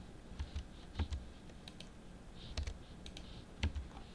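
Computer mouse clicks while drawing traces in Sprint Layout PCB software: soft, close clicks, some single and some in pairs, sounding at irregular intervals over a faint background hum.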